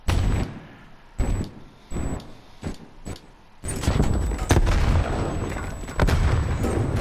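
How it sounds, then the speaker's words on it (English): Grenade blasts and gunfire during a Domination match in Call of Duty Black Ops Cold War: sharp shots and heavy booming explosions arrive in bursts. They build into a dense, loud stretch of continuous combat. "We're lobbing grenades at each other."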